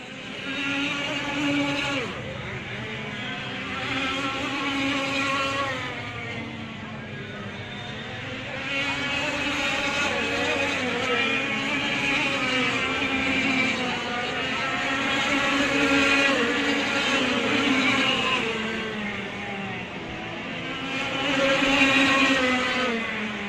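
Racing karts lap Whilton Mill during a kart cup round, their high-revving engines whining as they pass in waves, sound rising and fading repeatedly over a continuous buzz.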